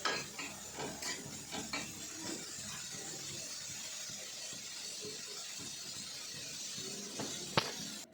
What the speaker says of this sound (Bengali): সবজিগুলো ভেজে নিচ্ছি।